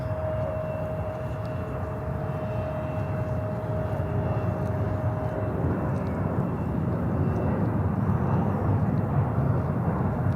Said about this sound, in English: This is a 320, a 320-200 from Detroit.